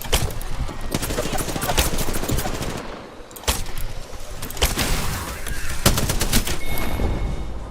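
Rapid video-game gunfire crackles almost continuously, dense bursts of sharp shots with brief lulls, loud and close, with a voice speaking intermittently over it.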